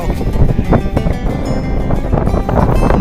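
Strong wind at a mountain viewpoint at Phu Thap Boek, Thailand, roaring and buffeting the microphone in continuous loud gusts.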